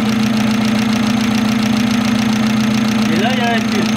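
A worn Citroën Saxo, a wreck being brought back to life, idles steadily with a low, even engine drone and a constant rumble close to the microphone, with a brief higher whine or chirp toward the end.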